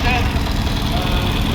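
A vintage tractor at a tractor parade during an agricultural show runs with a steady, close engine rumble that fills the whole stretch without a break.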